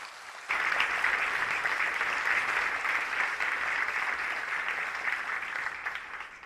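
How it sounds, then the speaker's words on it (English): Steady applause from a conference audience at a human rights event, starting abruptly and holding as a dense, even wash of many hands clapping for several seconds before easing slightly at the end. "So that is also worth a very big applause"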